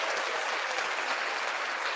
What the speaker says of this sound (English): got my applause back